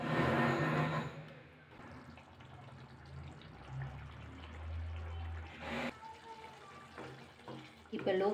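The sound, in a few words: cup of water poured into cooking pan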